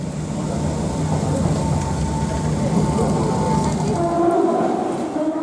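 A passenger train heads toward Colombo, Sri Lanka, its steady rolling rumble and rattle filling the carriage continuously, with faint higher squeals rising briefly near the end.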